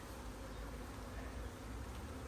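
Honey bees buzz steadily in an open hive during an inspection, a dense continuous droning hum up close with no breaks and no voices.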